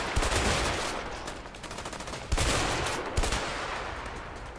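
Gunfire in the co-op video game A Way Out: a steady spray of rapid shots with two sharper, louder bursts standing out partway through, close and dense, no voices.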